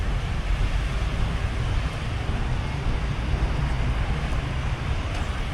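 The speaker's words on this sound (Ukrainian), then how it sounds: "диви, яке сьогодні море спокійне" A calm sea washes gently onto a beach in Vietnam at evening, a low steady rumble of small surf mixed with wind noise on the microphone.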